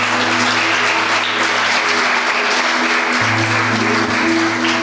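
A church congregation claps in sustained, dense applause that stays steady and fairly loud from start to finish.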